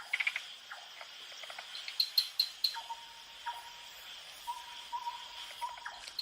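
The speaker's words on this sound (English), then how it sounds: "various tree frogs" Various tree frogs call at night in a forest, with repeated short chirps and clicks plus a thin, steady insect-like trill, faint and distant in a quiet setting.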